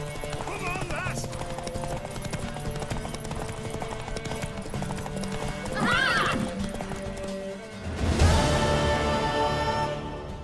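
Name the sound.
horse galloping and neighing in video game Witcher 3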